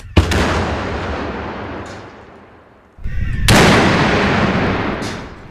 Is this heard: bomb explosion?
yes